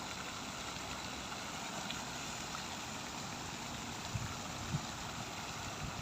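Calm water laps and flows steadily while boats pass by in the distance. The scene is faint and even, with no talking.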